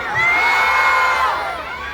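A large outdoor crowd shouting and cheering in the rain, high-pitched screams and whoops swelling together in one sustained roar that fades slightly at the end.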